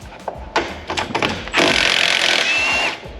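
Clicks and handling noises of a tool being set against a BMW G82 M4 strut nut, then a loud, close burst of whirring hammering from an impact wrench lasting about a second and a half.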